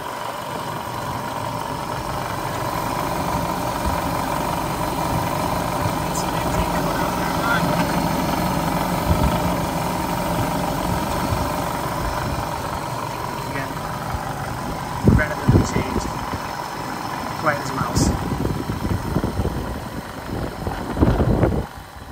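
A starboard engine on a 2004 Glacier Bay 2680 Coastal Runner boat idles with a steady, fairly close mechanical rumble, with a few brief louder knocks and clatters near the end.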